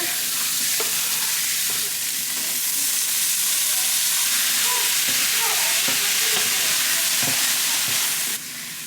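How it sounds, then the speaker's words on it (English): Loud, steady sizzle of chopped onions frying in melted butter in a hot cast iron pan, a continuous bright hiss with occasional pops and scrapes of stirring, close up. "This cast iron pan is hot, so I'm just adding my butter, letting that melt. Now I have my chopped up onions here."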